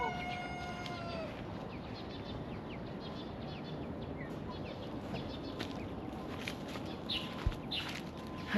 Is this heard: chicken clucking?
yes